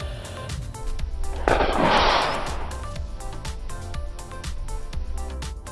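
A pressurized water rocket is released for launch with a sudden loud whooshing burst of spraying water that fades over about a second, set against steady rhythmic background music.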